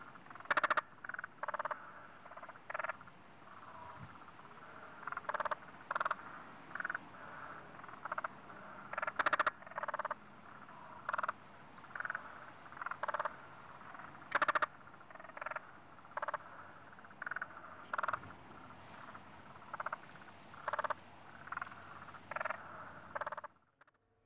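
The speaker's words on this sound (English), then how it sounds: "Spotted grass frog, Limnodynastes tasmaniensis," Spotted grass frog (Limnodynastes tasmaniensis), western call race, calling in a rapid, machine-gun-like series of short pulsed croaks repeated steadily, with several loud nearby bursts over a quieter chorus.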